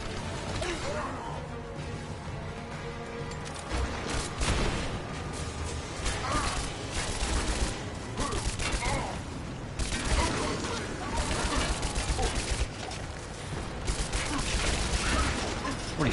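Gunfire in Rise of the Tomb Raider, dense bursts of shots and impacts thudding through a busy, loud game soundscape with mechanical clatter, continuing for the whole stretch without a clear pause.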